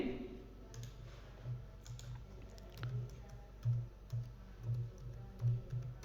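Keys clatter on a computer keyboard as a name is typed into an Excel custom list, with light irregular taps and clicks running steadily throughout at a modest, close level.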